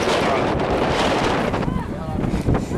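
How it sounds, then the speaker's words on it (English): Strong wind buffets the microphone on a mountain top overlooking the sea, a loud, steady broadband roar that dips briefly midway before surging back. "It's really windy, so I don't know how much you can hear"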